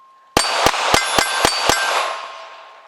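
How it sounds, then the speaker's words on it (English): An AR500 steel target plate on its stand rings out with six sharp metallic clangs in a fairly even rhythm, each hit bright and loud, the ringing tone lingering and fading after the last strike. "This is one of their AR500 plates and stands that they are selling"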